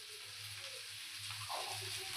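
Ghee sizzles in a pan of frying cabbage curry with ginger, turmeric and salt, a steady soft crackle and hiss with faint stirring, close and fairly quiet.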